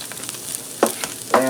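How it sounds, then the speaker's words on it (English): Four cloves of minced garlic sizzling over low heat in a Copper Chef XL skillet: a soft, even crackle broken by two short stirring scrapes. "I'm going to add to my skillet or my Copper Chef 4 cloves of garlic that I minced"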